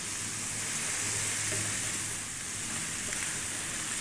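Bacon fries in a pan over high heat, giving a steady, dense sizzle that stays loud and continuous throughout, with no talking.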